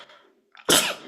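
One sharp, loud human sneeze, preceded by a brief quiet inhale, bursting out near the end and fading quickly.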